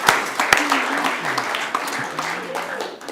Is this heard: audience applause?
yes